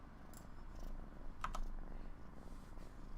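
A cat paws at a microphone on a desk, making soft, close rubbing and tapping bumps with a couple of sharper clicks over faint low background noise.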